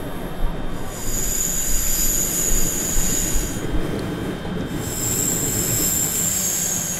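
A Thameslink train in Train Simulator 2018 runs steadily along the East Coast Main Line, its wheels squealing over a continuous rolling rumble, with high whining tones coming and going throughout.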